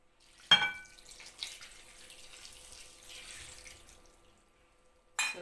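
Two cups of water are poured into a seed and nut bread dough, with a short splashing burst at the start, a faint trickle afterward and another brief splash at the end.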